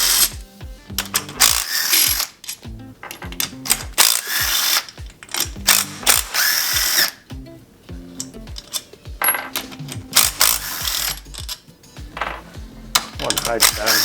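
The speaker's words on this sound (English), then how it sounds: "I'm going to take all the case bolts out." A ratchet wrench backs out case bolts from the sump cover of a Honda GXV530 engine, with rapid close clicking bursts separated by short pauses, repeated several times.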